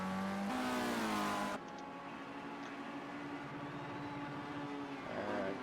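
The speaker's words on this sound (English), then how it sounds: "You can hear that rev limiter being hit." A race car in Project Cars 2 at the Red Bull Ring revs high and holds against the rev limiter for about a second and a half, then drops to a steadier, quieter engine whine.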